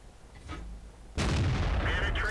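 Caernarvon tank main gun firing in a tank battle game, a single sudden heavy boom that cuts in midway and rolls on with rumbling echo, following a quieter stretch of engine hum.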